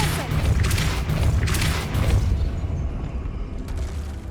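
A Depulso force spell fires in Hogwarts Legacy as a loud booming blast, a burst that rolls over a dense, continuous wash of game noise and sound effects, with the impact tailing off into a lower rumble.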